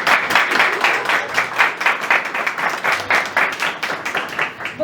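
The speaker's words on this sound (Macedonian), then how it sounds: "Ве молам аплауз за това." Applause from the crowd at the opening of a sculpture exhibition in Skopje, many hands clapping in a lively, pulsing rhythm that stays strong and close throughout.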